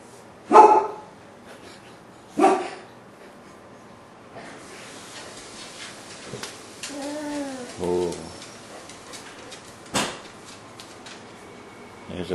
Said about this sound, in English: The puppy dog barking.